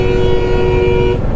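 Vehicle horns blare on the NH-34 highway between Kolkata and Siliguri near Krishnanagar, Nadia, a steady loud honk over rumbling road traffic that holds for over a second before fading.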